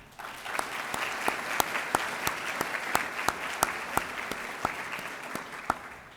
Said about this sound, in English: Please join me in a round of applause for our colleagues at the Chamber for a job well done.